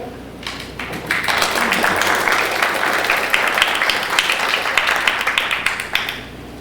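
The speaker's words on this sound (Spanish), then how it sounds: "Recibimos con un fuerte aplauso al autor." An audience at a law congress in Mexico City bursts into a full, sustained round of applause that rises quickly, holds dense and loud for several seconds, then tapers off.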